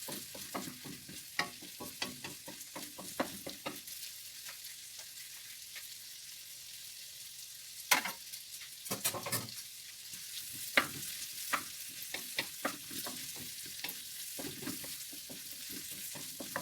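An omelette cooks in butter in a pan with a steady soft sizzle, broken by scraping and stirring strokes from a utensil and a few louder clatters, with no voices.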